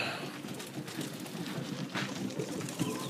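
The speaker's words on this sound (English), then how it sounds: "For 28 birds, I'm giving them 2 cups." Pigeons at feeding time in a loft of 28 birds, a soft continuous murmur of cooing and rustling close by, with light scattered pecking and movement throughout.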